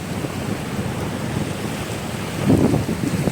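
Sea surf rolls in steadily around a car stuck in floodwater in the Ghed region of Kutch, with wind buffeting the microphone; a louder wave surge swells up near the end.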